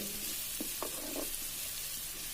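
Onions fry in a clay pot for a village-style dried fish and brinjal curry, giving a steady close sizzle broken by a few soft scrapes of stirring.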